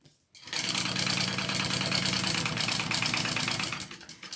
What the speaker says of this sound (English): So I'm just going to baste these two pieces together.